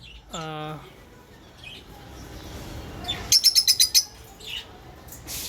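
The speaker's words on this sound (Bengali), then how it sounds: "খুবই লক্ষ্মী পাখি" A pair of caged budgerigars chirp up close: a quick falling call at first, then a rapid burst of sharp high tweets and a few softer chirps after it.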